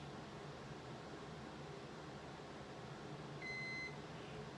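A deep fryer signaling that it has reached frying temperature for crab mac and cheese balls, a single short electronic beep near the end over a quiet steady kitchen hum.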